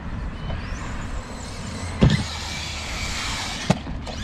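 A Traxxas Mini Maxx RC basher with a brushless VXL system running at full throttle, a steady motor whine with changing pitch and two sharp knocks from bumps or landings, close and with no talking.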